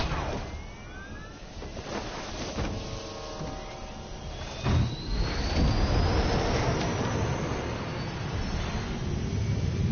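The jet engine of a flying villain in the Spider-Man PS4 game gives a steady roaring whoosh under a rising whine, with a swell near the middle as it passes, a continuous loud hiss throughout.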